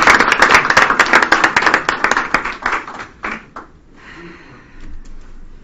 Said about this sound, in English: Ray a round of applause, please, for his time.